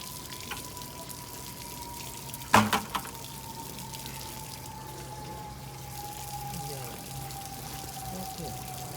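Water pours steadily into a tub for washing clothes by hand, with a low continuous splash and a brief clatter of handling partway through, faint and alone.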